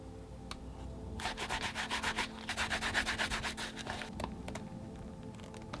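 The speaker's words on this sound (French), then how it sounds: "Ensuite, je lustre la tranche." Leather edge of headphone ear pads for a Beyerdynamic DT 770 M being burnished, a quick run of rhythmic rubbing strokes, close and steady, after a few light taps.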